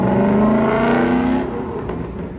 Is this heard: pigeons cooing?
no